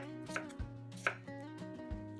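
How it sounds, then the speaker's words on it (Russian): A knife chops whole cucumbers into rounds on a board for a winter salad, giving a handful of crisp, separate cuts at an uneven pace over soft background music. "Огурцы моем и нарезаем кружочками."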